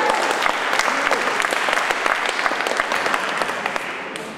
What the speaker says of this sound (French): On applaudit Martine.